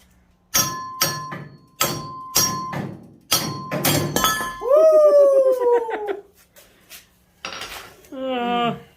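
Hammer blows ring out against a go-kart ball joint during a BDX Performance ball joint install on a Yerfdog kart, about a dozen sharp metallic clanks in uneven bursts, then longer ringing scrapes.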